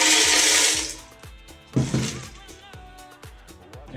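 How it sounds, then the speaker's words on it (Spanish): A blender crushes ice with piña colada ingredients, a loud grinding roar that cuts off after about a second, followed by clattering ice knocks and a second short burst, with a voice talking alongside. "Ahora echamos todos los ingredientes en la batidora, simplemente la batimos."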